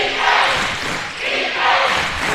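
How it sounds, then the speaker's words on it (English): A basketball crowd in a college gym roars and cheers loudly and continuously, with swelling waves of noise throughout. "The crowd getting into it."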